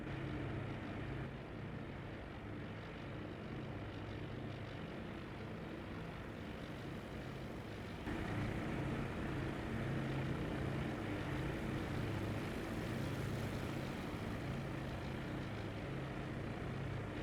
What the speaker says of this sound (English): Engines start, and takeoff is going to happen right away.